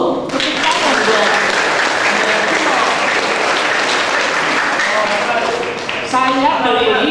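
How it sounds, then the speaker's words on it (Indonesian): A graduation crowd at Hidayatullah Tahfizh Al-Qur'an school in Bandung claps loudly and steadily throughout, with some voices mixed into the applause. "Tepuk tangan dong."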